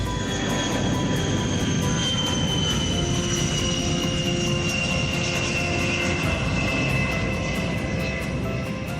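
A WB-57 high-altitude jet aircraft flying, giving a loud, steady, continuous roar with a high whine that holds for the whole stretch without pause.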